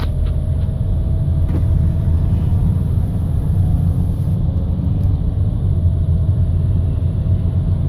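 Steady low rumble of a Chevrolet HHR car on the move, continuous road and engine drone heard from inside the cabin, loud and unbroken throughout with no voices.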